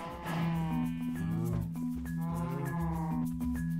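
Several cows lowing in the Minecraft video game, their repeated game-sound moos layered over steady background music, loud and close with no talk.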